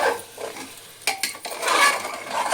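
Chicken gravy with masala and poppy seeds being stirred in a pot, with a spoon scraping and clinking against the metal in a few sharp knocks over a soft, steady sizzle, close up and without talk.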